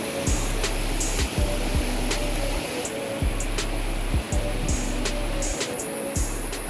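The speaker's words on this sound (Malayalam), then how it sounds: "പ്രകൃതിയുടെ വെള്ളത്തിൻ്റെ ഒഴുക്കിൻ്റെ സൗണ്ടും കിളികളുടെയും മറ്റു സൗണ്ടൊക്കെ നല്ല ഗംഭീരമായിട്ട് ഇവിടെ കേൾക്കാൻ കഴിയും" Steady broadband rush of river water flowing near Bhoothathankettu Dam, a continuous close wash of sound with a low rumble underneath and faint higher twittering tones over it.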